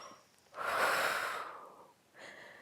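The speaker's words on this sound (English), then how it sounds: "Breathing out." A person doing a Pilates exercise breathes out in one long, close, airy exhale that swells and slowly fades, followed by a shorter breath.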